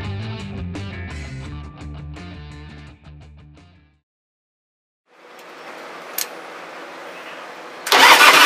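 A 2004 Big Dog chopper motorcycle fitted with a Kirker exhaust fires up after a stretch of music and a pause, settling into a steady rumble before a sudden loud surge at the end.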